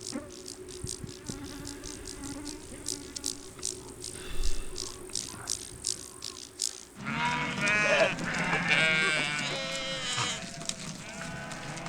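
A nomadic herder's flock of nearly 600 sheep bleats steadily over a dense buzz of flies and insects, many overlapping calls swelling louder midway through, outdoors.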